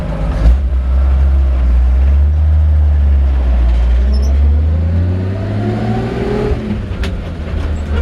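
A 1947 Chevrolet 3100 five-window pickup engine cranks and fires, settling into a loud, deep, rumbling idle, then rising slightly in pitch as it revs, heard up close with no talking.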